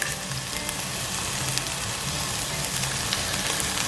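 Scallops sear in a hot pan, their sides browning, giving a steady, close, dense sizzle that holds evenly throughout with no voices.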